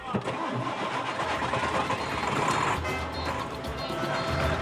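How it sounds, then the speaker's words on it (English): An old vehicle engine on a rough road journey in Guinea starts and runs, a steady, loud mid-pitched rumble with continuous rattling that holds throughout. "The old engine groans away, and Alassane wonders whether he'll be able"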